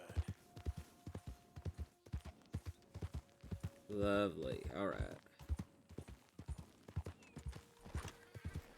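Horse hooves clip-clop steadily in Red Dead Redemption 2 while someone talks softly over them, with a brief whinny-like snort in the middle and a faint tonal game hum underneath.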